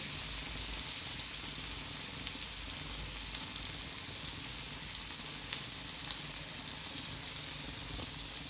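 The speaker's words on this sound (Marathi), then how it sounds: "स्लो फ्लेमवरच फ्राय तयार करून घ्यायची आहे" Rice-flour-coated pomfret fish fries in a pan over a low flame, giving a soft, steady, even sizzle with faint crackles and no voices.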